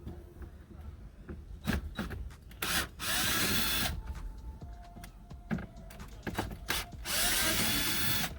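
Power driver fitted with a T20 bit backing out screws during a 2009–2012 Ram dash screen install, short close whirring bursts in several separate runs with gaps between.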